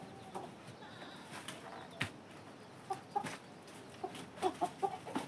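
Chickens cluck in short, scattered bursts that grow busier toward the end, fairly faint and distant over a quiet outdoor background.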